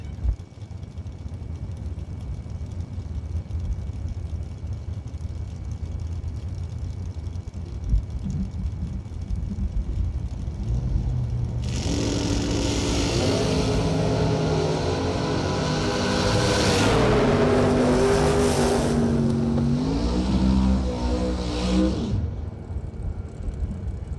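Door cars at a drag race: a distant low rumble builds into a loud roaring pass from about halfway through, engines rising and shifting in pitch, then fading away.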